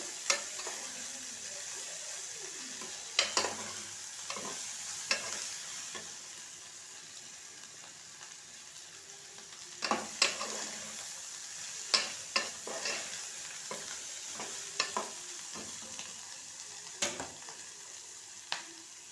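Food fries steadily in a pan under a constant soft sizzle, while a spoon stirs it with sharp scraping knocks at irregular intervals across a long stretch.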